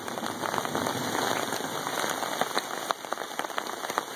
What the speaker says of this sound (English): Hopefully this rain just cools it off and doesn't bring the bunch of humidity in